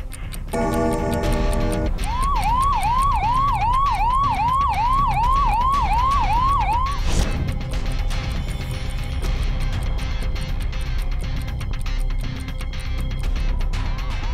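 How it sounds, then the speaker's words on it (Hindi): Loud wailing sirens from a convoy of vehicles sweep up and down repeatedly, joined by a rapid ticking beep, over constant traffic rumble on a busy VVIP road in Lucknow, India. "लखनऊ की इस वीवीआईपी सड़क पर एक के बाद एक सायरन बजाती गाड़ियां कूच कर रही थीं।"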